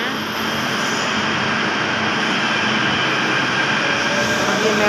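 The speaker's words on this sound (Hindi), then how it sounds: "ये मेट्रो जा रही है" A metro train rumbles past a station in a steady, continuous roar, with faint high wheel hiss over it and no voices.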